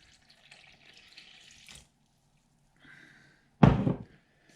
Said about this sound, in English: So pop the water in.